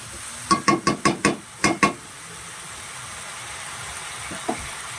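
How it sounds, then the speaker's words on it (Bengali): A spoon strikes and scrapes through a fish, eggplant and potato curry in a pan: seven quick, evenly spaced strokes, then a quiet hiss and one faint final knock. "দ্বিতীয় কিছুক্ষণ নাড়তে হবে, তাহলে সব সবজিতে মশলাটা লেগে যাবে"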